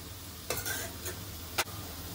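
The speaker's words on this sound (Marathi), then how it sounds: "दोन मिनिटं आपण परतून घेतलेले गाजर तुपावरती" Carrots sauté in ghee in a pan: a soft, steady sizzle broken by a few brief scraping stirs, with one sharper scrape near the end.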